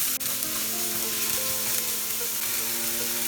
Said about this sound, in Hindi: प्याज हमें हाफ फ्राई करना है